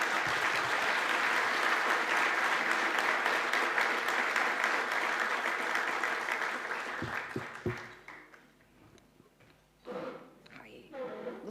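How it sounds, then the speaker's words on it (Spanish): An audience at an economics forum applauds to welcome the minister, a full steady round of clapping that trails off into a few stray claps, shuffling and quiet voices. "Lo recibimos con un aplauso."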